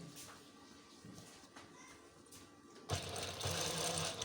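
A sewing machine stitches a bean neckline in a tailoring class, a faint run at first and then a loud, steady whirring burst near the end.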